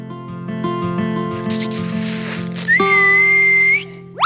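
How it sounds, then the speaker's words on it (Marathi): A man whistles a bright, sustained rising note that holds steady, then climbs sharply at the end, following brief musical chords and murmuring voices on a comedy stage. "ए तू शिट्टी का मारलीस?"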